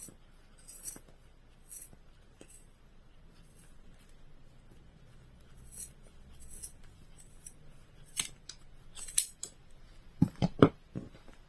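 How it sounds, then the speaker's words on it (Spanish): Scissors snip the ends of trapillo yarn while trimming a tassel for a crocheted bag, a run of quiet crisp cuts building into several louder, sharper snips toward the end, with no talk. "ahora vamos a cortar las puntas"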